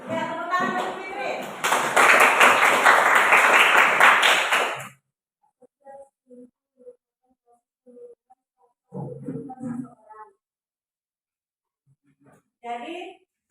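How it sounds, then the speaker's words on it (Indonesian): A small group in a classroom claps for a student, a short burst of brisk hand clapping lasting a few seconds, followed by quiet with scattered talk. "tepuk tangan untuk Fitri"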